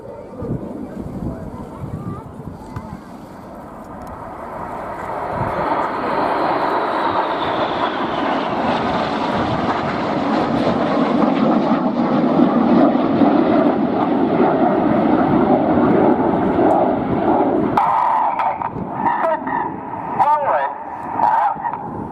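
Red Arrows jets roar overhead during a corkscrew manoeuvre at an airshow, a broad steady jet rumble that builds and holds loud, with a commentator talking over it throughout.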